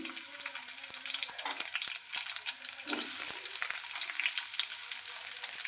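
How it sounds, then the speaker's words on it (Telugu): Onions sizzling in hot oil, a busy crackling hiss with clicks and scrapes from stirring, close and steady, no talking. "ఆయిల్ అయితే వేడెక్కింది అందులో అయితే ఉల్లిగడ్డలు వేసేసాను"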